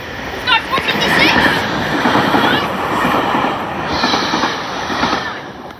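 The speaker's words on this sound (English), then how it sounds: "Express train coming in." An express train rolls into a station with a loud, steady rumble, wheel clatter and squeals close by, while people talk over the noise.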